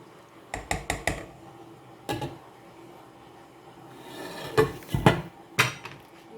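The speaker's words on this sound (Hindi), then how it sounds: "इसको हम दूसरे चूल्हे पे शिफ्ट करेंगे" A cooking pot holding sheer khurma is shifted to another stove burner, giving a series of sharp metallic clanks and scrapes in bursts, close and fairly loud, with quiet gaps between.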